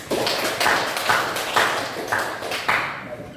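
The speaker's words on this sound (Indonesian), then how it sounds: "bagi jawaban yang benar tepuk tangan untuk ini" Classroom group clapping rewards a student's correct answer, a short burst of hand claps with several sharper accents, fairly close and loud, with no voices over it.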